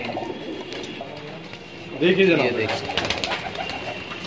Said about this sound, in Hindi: रामपुरी कबूतर